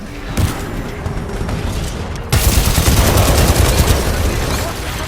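Automatic weapon fire in the Titanfall 2 story campaign, a dense, sustained burst of shots that grows louder partway through and continues to the end amid game effects.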